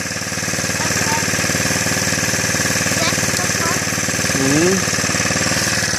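A mini bike engine runs loud and close with a steady, rattling idle-like drone throughout, while a voice murmurs briefly over it.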